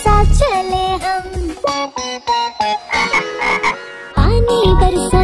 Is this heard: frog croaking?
yes